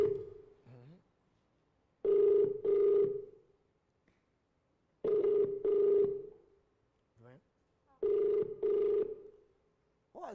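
A telephone ringing on a live TV game show call-in, three repeated double-burst rings separated by pauses, clear and fairly close, with brief voice fragments in the gaps.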